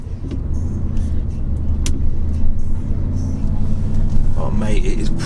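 An Audi SQ7 pulls away on a hot day, its engine a steady low rumble close inside the cabin, with people talking over it throughout.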